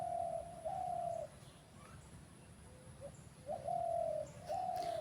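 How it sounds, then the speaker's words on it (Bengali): A dove coos outdoors at moderate distance in two short sustained phrases separated by a pause, faint against quiet background noise. "এই যে ঘুঘু পাখিটা ছিল, ভয় পেয়ে গেছি"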